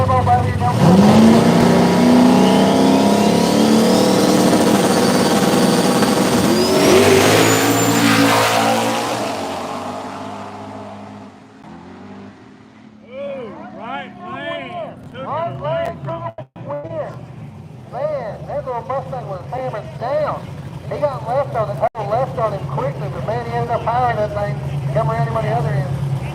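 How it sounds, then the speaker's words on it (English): Camaro and Mustang cars, one a nitrous car and one turbocharged, launching in a no-prep drag race at Southside Dragway: loud engine roar and revving for about ten seconds, then fading under a livestreamed commentator's talk and crowd noise. "Camaro versus Mustang"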